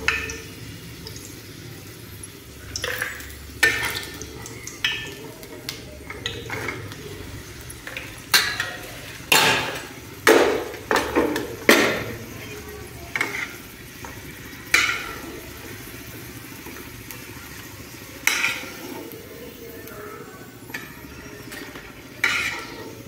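Potatoes fry in a pan for a bhindi aloo mustard curry, with a steady low sizzle. Repeated scraping stir strokes and utensil knocks come at an uneven rhythm, close and fairly loud.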